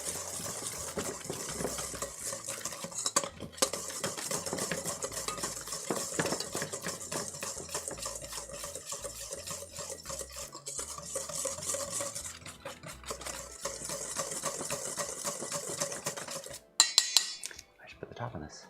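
Whisking batter for a Swedish apple cake, äppelkaka: a steady, busy metallic clatter of whisk against bowl runs almost continuously, then breaks into a few louder knocks near the end.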